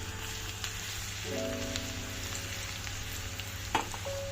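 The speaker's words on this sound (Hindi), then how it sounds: "देखो इस तड़के की ना भाई बात ही कुछ और है यार" Garlic and two green chillies sizzle in ghee for a tadka, a steady, even crackle throughout at moderate level with a faint clink near the end.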